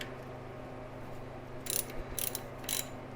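A ratchet tightens the belt adjustment bolt on a C3 Corvette: three short clicking bursts close by over a quiet low hum, each a quick run of pawl clicks.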